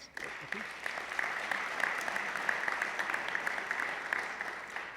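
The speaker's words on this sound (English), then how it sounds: "So another round of applause." An audience applauds at the 2025 Swarthmore College athletics Hall of Fame induction ceremony, with steady, fairly distant clapping that holds for the full stretch without talk over it.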